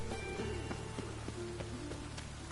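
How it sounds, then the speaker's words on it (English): Steady rain pours down in The Witcher 3 video game, a constant soft hiss with scattered faint drips, heard at low level with no speech. "Wish it wasn't raining."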